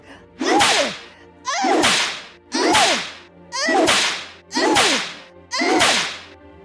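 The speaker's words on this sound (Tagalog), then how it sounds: "paulit-ulit siyang pinapalo ni Aling Matilda ng buntot pagi upang paslangin na ito" A stingray tail whip lashes six times at a steady, evenly spaced rhythm, each stroke a loud, close swish with a sharp crack.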